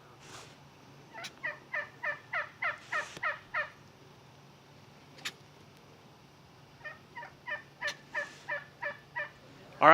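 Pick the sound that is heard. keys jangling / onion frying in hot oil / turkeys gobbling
turkeys gobbling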